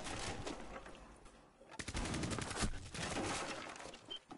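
Gunfire in Rainbow Six Siege crackles in bursts of rapid automatic shots, with a pause before a heavier volley and scattered single cracks, fairly faint overall.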